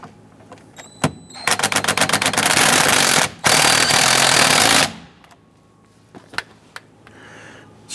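A power tool rattles in a Dodge Ram 1500 steering wheel bolt, with fast impact bursts lasting a few seconds, a short pause, then another long burst before stopping, followed by small clicks and handling noises.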